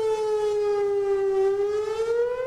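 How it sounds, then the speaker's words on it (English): A Fort Worth outdoor civil defense warning siren sounds a loud, steady wailing tone whose pitch dips slowly and then climbs again, continuous throughout with no voices. "The main warning system consists of 153 outdoor warning sirens."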